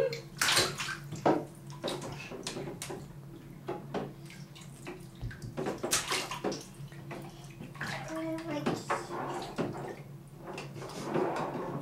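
Young children splash and slosh water in a bathtub during their first bath together, with irregular near splashes, drips and knocks throughout while adults talk nearby.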